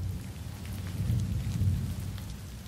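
Steady heavy rain pours during a thunderstorm, with deep rolling thunder rumbling continuously underneath, loud and close, no voices.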